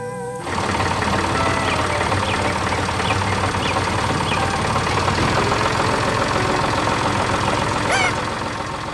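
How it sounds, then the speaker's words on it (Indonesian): A yellow tractor engine runs steadily in a green forest setting, a continuous loud mid-to-low rumble with a rhythmic knocking pulse that starts abruptly and holds at near-constant level throughout, close to the listener. "Dengan suara mesin yang tenang, traktor itu menggerakkan tanah dan menanam kehidupan baru."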